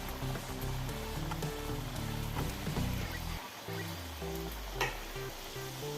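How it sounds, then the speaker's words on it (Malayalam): Diamond cuts, flat pieces of dough, frying in hot oil in a pan on a gas stove, giving a steady bubbling sizzle that sits under loud background music for the whole stretch. "നടുക്കത്തിട്ട് പകുതിയാണ് ഇപ്പം ഫ്രൈ ചെയ്യുന്നത്"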